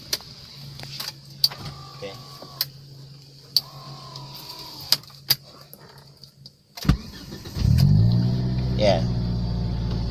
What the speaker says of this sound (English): of course, we'll start the car like this.